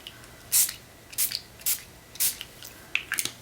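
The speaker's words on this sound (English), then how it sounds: "So all I'm gonna do is spray here." A handheld spray bottle of ink hisses onto paper in five or six short, sharp bursts, spaced about half a second apart, close by and alone.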